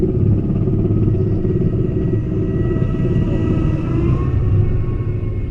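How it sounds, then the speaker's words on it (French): A heavy roller coaster motor drones and rumbles continuously, straining under load with a steady low growl and faint mechanical clatter, close by and loud. "T'entends bien le moteur, comment il travaille."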